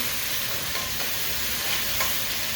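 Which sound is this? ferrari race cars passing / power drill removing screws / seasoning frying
seasoning frying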